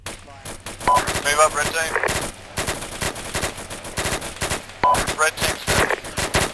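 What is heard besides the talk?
team machine gun fire in a military video game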